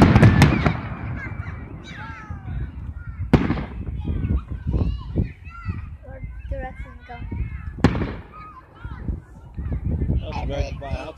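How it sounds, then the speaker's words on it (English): Fireworks bursting over Naples, a series of sharp loud bangs and crackles at irregular intervals, with people chatting and calling nearby throughout. "Just enjoy the fireworks."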